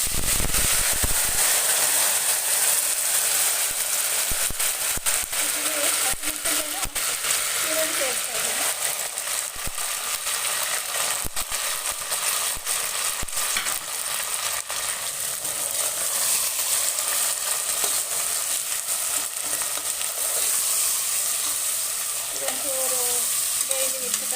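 Bay leaves and mint leaves frying in hot oil for vegetable pulao, a loud continuous crackling sizzle with occasional sharp pops, close up, with a voice talking faintly over it at times.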